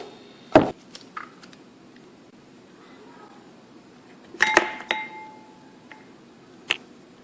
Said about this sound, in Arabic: احنا هنفصل الصفار عن البياض